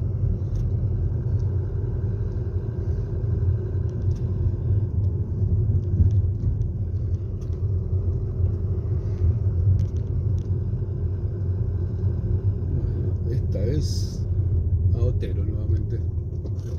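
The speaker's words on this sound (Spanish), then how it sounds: "Otro coche de Buenos Aires, otro más, otro más, uno al lado de otro." Cars pass one after another along a street in Carrasco, Montevideo, a continuous low traffic rumble that stays fairly steady, with someone talking over it.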